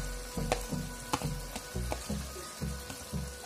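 Sliced tomato sizzles in a frying pan, a soft frying hiss punctuated by regular clinks and scrapes of a utensil against the pan.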